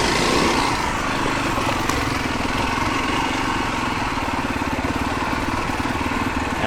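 A dirt bike engine running close by, a loud, rapid, rattling beat that holds steady after an opening burst of revving, with no speech.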